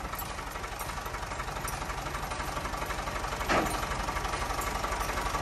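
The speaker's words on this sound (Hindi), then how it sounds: "ट्रैक्टर खौरू मारदा बई इत्थे।" A tractor engine runs steadily while hauling a loaded trolley at night, a continuous rumbling drone with one brief louder burst partway through and no talking.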